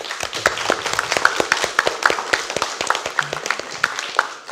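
Audience applause for the technical crew at a student eloquence contest in a university computing department, dense steady clapping sustained throughout, close and lively.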